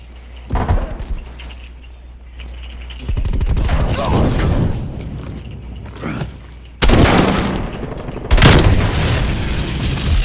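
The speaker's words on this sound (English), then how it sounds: "Damn, I have a machine gun." A machine gun rattles in Call of Duty: Black Ops Cold War, with rapid bursts of gunfire and heavy booms that come in several loud waves over a low rumble, and voices briefly heard between them.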